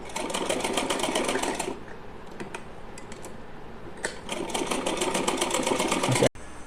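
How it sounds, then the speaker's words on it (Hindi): A sewing machine runs in steady close bursts while stitching pleats for a Laddu Gopal (Kanha ji) dress, loud rapid stitching with a brief pause in the middle and an abrupt stop at the end. "यहाँ पर हमें सिलाई लगाते हुए 6 इंची में प्लेट्स बना"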